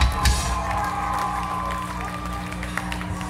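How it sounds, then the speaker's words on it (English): A concert crowd at a metal show in a Chicago club cheers, whoops and applauds in a dense, steady roar, with a low hum of stage equipment underneath and scattered louder shouts. "Give yourselves a round of applause,"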